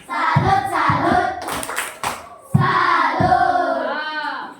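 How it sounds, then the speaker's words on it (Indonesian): Classroom 'tepuk salut' cheer: a group claps in a quick rhythmic pattern while children chant along loudly and closely, with a short pause midway before the clapping and chanting resume. "Kasih dulu tepuk salut."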